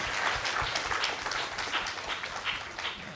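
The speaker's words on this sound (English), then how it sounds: "So a huge round of applause to my panelists" A conference audience applauds the panelists at a capital-raising conclave, giving a short burst of brisk, close clapping that stays fairly even throughout.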